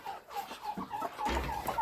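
Broody hens cluck in a farmyard, a close run of short clucks and low murmurs with a denser burst toward the end.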